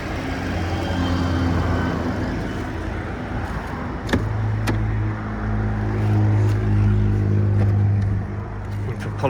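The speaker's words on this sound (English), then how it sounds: "apologise for the noise of the main road" Steady traffic from a nearby main road rumbles on continuously at moderate volume, with a few brief clicks and knocks close by over the passing vehicle noise.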